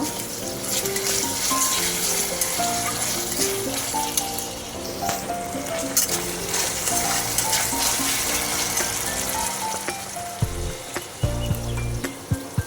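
Ginger garlic paste and chilies frying in hot oil for yogurt chicken, stirred in the pan with a continuous close sizzle and occasional scraping, no voices.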